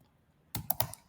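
Quick bursts of typing on a computer keyboard as code is written, after a short silence: five or six sharp, close clicks in a fast, uneven run.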